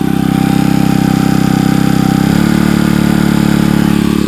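A gold quartz crushing machine's engine runs loud and steady, its deep drone stepping to a different pitch partway through as it is revved higher, with no talk over it.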